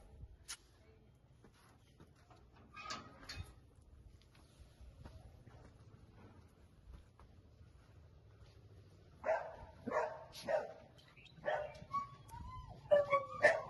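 A puppy whimpers softly and sporadically in a quiet room, then gives a burst of short, high yips and barks toward the end, close by and growing louder.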